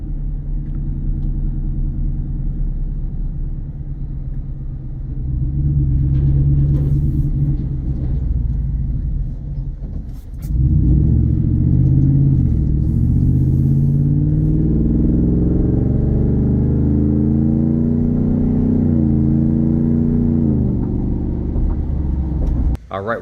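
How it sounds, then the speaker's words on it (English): Deep engine rumble and throaty exhaust drone from a 2025 Ford F-150 XL pickup with a Roush supercharger, rising as it revs up midway and then holding a loud, steady growl. "Exhaust sounds good."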